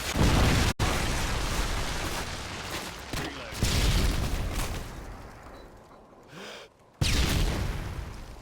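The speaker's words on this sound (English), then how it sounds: "Friendly Predator missile inbound." Predator missile strike in Call of Duty: Modern Warfare 2, a loud sustained blast and rumbling debris with gunfire-like crackle, dropping briefly before another heavy burst near the end.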